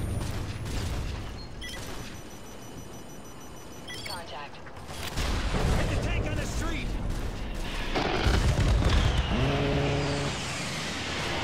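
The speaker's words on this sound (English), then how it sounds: "Just throw a grenade in it." A grenade blows up in the Call of Duty game, a loud broad blast landing amid constant gunfire, clanking mechanisms and engine noise, with people talking over the action.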